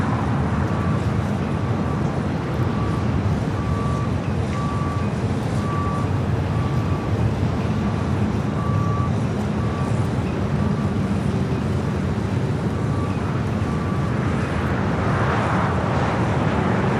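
A KLM Boeing 787-10 Dreamliner comes in to land at LAX, a loud, continuous jet roar with a steady whine held throughout, heard from nearby.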